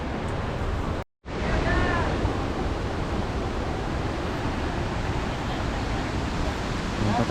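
Strong spring water rushing near a waterfall in the Cordillera mountains, a dense, continuous roar that fills the scene, interrupted once by a brief cut, with no clear talk.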